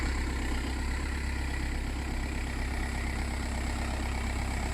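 Audi A4 B6 engine idling steadily just after start-up, a constant close low rumble with an even mechanical hum and no pauses or speech.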